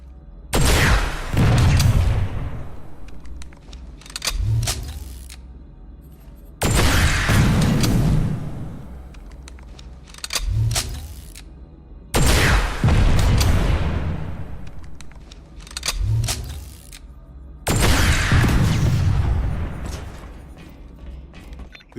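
Rocket launcher blasts blow up a vehicle in the PlanetSide 2 game: four heavy explosions roughly every five seconds, each a loud booming burst with a rumbling tail and smaller bangs between.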